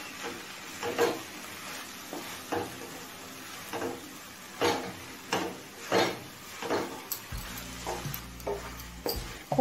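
Grated khoya kheer filling is stirred in a pan over a medium flame, with rhythmic scraping strokes over a faint sizzle and a low hum joining near the end.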